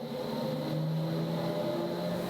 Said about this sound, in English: As the pump starts and begins to create the vacuum in the sludge tank